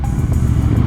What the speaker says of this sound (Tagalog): yung tunog ng makina barumbado